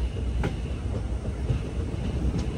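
The Agartala Express runs on the Silchar–Agartala line with a steady loud rumble and rhythmic clatter of wheels over rail joints, heard from on board with no talk.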